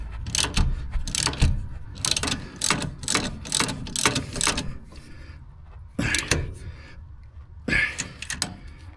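A 3/8 drive ratchet gently tightening a shock bolt on a 2016 Ford Focus, close, loud clicking in quick strokes with brief pauses, some low voices mixed in.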